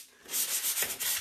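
A sanding sponge rubbing over a chalk-painted custom vanity top makes a close, soft abrasive scrubbing in a few quick back-and-forth strokes.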